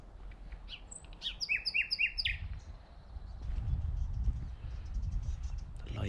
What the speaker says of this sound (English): Who is singing that song?